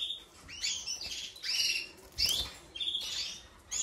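Spanish breed canaries chirp and twitter in short, high bursts, several birds calling in quick succession from close by, with no voices.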